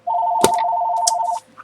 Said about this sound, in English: I'm so sorry, guys. That's my phone.